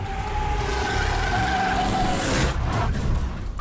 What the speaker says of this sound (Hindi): गाड़ी आ रही है भैया